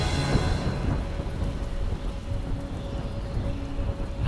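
A thunderstorm sound effect in a storyteller recording of The Emperor's New Groove: steady rain patters while low thunder rumbles beneath, at moderate level throughout with no narration over it.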